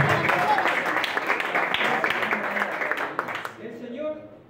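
A live crowd applauds a drummer after a band introduction, dense clapping that thins out toward the end as a voice resumes speaking.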